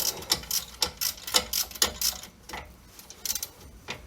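A ratchet wrench clicks in quick bursts while tightening axle bolts on a Jeep Cherokee, with close, crisp, rhythmic pawl clatter that pauses briefly, then resumes with a few more clicks.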